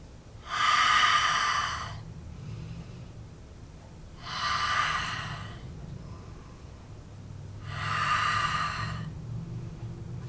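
Three slow, deliberate breaths during chair yoga, each a long airy rush lasting a second or two, separated by quiet pauses, close and unaccompanied by talk.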